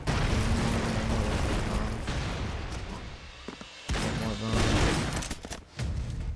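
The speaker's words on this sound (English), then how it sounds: "Just throw the bombs, throw the bombs" Bombs explode in the video game Broforce. A dense, loud barrage of booming blasts runs almost continuously, with a brief lull and a few sharper cracks near the end.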